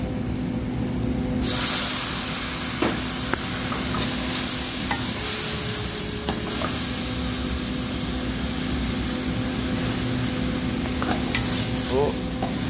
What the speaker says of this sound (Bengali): এগেন আমি সতে করছি।